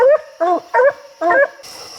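Coon dogs bark on a raccoon hunt, four loud, close barks in quick succession with short gaps between them, then a brief hiss of background noise.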